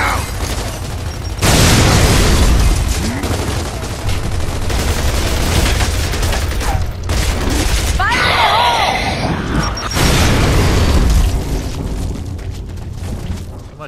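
Frag grenade blasts in Gears of War 3, loud booming explosions amid continuous gunfire and battle noise, with heavy bursts near the start and again around the middle, under a voice talking.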